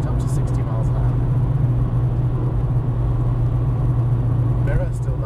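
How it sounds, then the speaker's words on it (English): A Mk2 Golf GTI's engine drones steadily on the road as the car accelerates, a constant low rumble heard from inside the car throughout. "Safe to accelerate up to 60 miles an hour"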